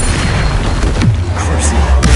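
Booming blast of the Bombarda spell in a Harry Potter video game, a loud dull explosion rumbling beneath continuous battle noise and a brief voice.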